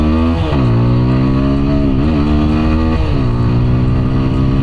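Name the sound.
TVS Apache 160 4V motorcycle accelerating and revving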